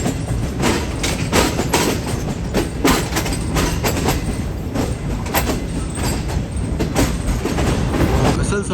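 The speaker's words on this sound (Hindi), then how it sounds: "हमारी ट्रेन इस वक्त प्लेटफॉर्म नंबर 3 पर लग रही है" Green Line Express passenger train pulling into platform 3 at Rawalpindi railway station, with continuous rumbling wheels, rhythmic clickety-clack over rail joints and faint squeals, loud and close.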